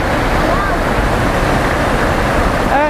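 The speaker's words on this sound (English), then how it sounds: "we hit a waterfall" A waterfall on a hiking trail roars as a loud, steady broadband rush close to the microphone, with a brief faint squeak or voice-like sound over it.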